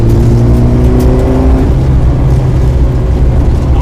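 A Mitsubishi Evo rally car climbs a hill under throttle, its engine loud and close, revving up in a sustained roar with a rising note early on before settling into a steady drone.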